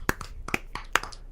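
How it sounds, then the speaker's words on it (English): A few people clap unevenly, sparse sharp slaps scattered over about a second and a half, fairly close and not very loud. "Everyone start clapping."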